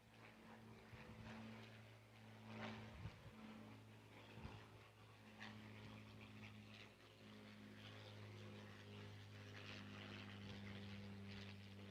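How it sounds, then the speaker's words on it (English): A Supermarine Spitfire Mark 9 propeller fighter passes at a D-Day ceremony in Bedford, Virginia. Its engine makes a steady, fairly distant droning hum that holds for the whole stretch without a clear peak. "Joining us today from the Fighter Factory Museum in Virginia Beach and sponsored by the Lynchburg Regional Air Show, the Supermarine Spitfire Mark 9."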